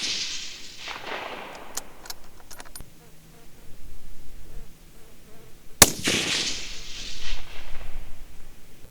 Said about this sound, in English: I'll show you some footage of shooting this rifle